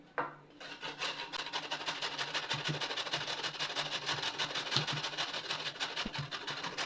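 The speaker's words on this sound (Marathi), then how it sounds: "आता आपल्याला याला या किसणीच्या सहाय्याने खिसून घ्यायचं आहे" Peeled sweet potato being grated on a hand grater in a home kitchen, giving a steady, continuous rasping scrape with fast repeated strokes, fairly close and with no talk.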